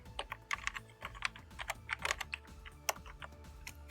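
Typing a web address on a computer keyboard: rapid, uneven clicking keystrokes, close and clear, with no talk over them.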